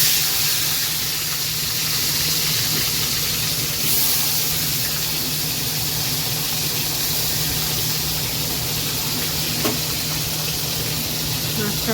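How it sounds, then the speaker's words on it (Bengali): Fish frying in oil in a home kitchen wok gives a steady, close hiss and sizzle that holds evenly throughout, with a voice talking at times over it. "এই যে মাছটা ভেজে নেবো।"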